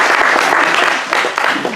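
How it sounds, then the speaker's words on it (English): A church congregation claps together at a Sunday service, dense sustained applause filling the room at close range with no voices over it. "Clap for yourself again."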